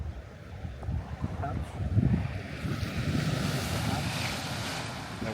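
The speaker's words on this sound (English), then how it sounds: "The waves crashing here" Sea waves wash and break at Ballintoy Harbour on the Northern Ireland coast in irregular surges, mixed with gusty wind buffeting the microphone.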